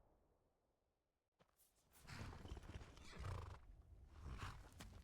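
A horse in Skyrim lets out a loud whinny and snorts, with hooves clopping close by, rising suddenly from near silence and continuing in bursts to the end.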